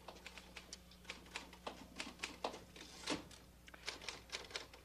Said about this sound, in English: Oh, Sal, I love to listen to you typing. Sounds like music to my ears. Tap, tap, tap, ring.